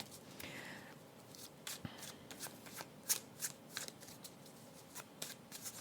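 Tarot cards are shuffled and drawn near and softly, with a run of quick riffling flutters and light papery taps, no talking.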